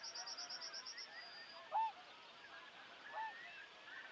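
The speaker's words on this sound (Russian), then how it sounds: "Море гуся." Distant geese honking during a spring hunt as a flock flies in, faint calls carried over a steady rhythmic pulsing tone, with a couple of slightly louder honks standing out.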